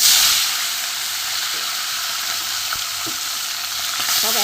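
Small puti and mourala fish frying in hot oil, a loud, steady sizzling hiss with crackling spatter and a few faint clinks of stirring, close and continuous throughout.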